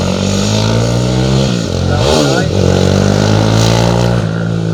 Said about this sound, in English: Ducati, Doug Parnell, the 310.